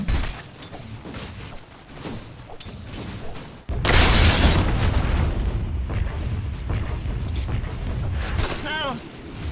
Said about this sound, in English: Dire's middle tower is under fire.